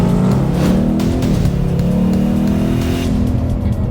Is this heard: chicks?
no